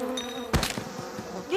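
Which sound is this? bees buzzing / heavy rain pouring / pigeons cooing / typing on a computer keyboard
bees buzzing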